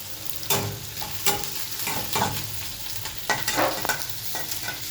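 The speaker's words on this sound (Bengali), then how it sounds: "এবার পেঁয়াজটা একটু ভাজা ভাজা করব" Onions sizzle in hot turmeric-tinged oil in a pan, a close, steady frying hiss broken by several sharp spatula stirs and scrapes at irregular intervals.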